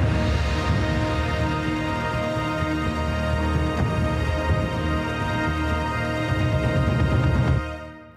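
Dense, loud orchestral game score from the psai adaptive music engine playing at 90% intensity: a full, busy layered arrangement that holds steady before cutting off sharply near the end.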